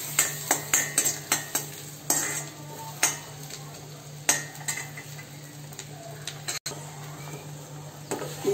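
Broccoli soup with garlic and butter bubbling in a pot, with a string of sharp utensil clinks against the pot over a low, steady background hum.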